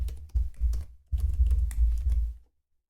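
Someone types a password on a computer keyboard in two short bursts of close, crisp key clicks separated by a brief pause. No one speaks.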